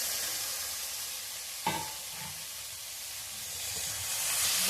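Boiled jackfruit and potato land in a pan with fried prawns, setting off one sudden hissing sizzle against steady frying, followed by quieter bubbling and a faint stir, with no voices.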